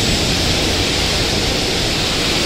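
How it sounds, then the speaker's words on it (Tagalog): Floodwater rushing through a basement during heavy rain makes a loud, steady roar that fills the whole clip without a break. "malakas na ang tubig dito"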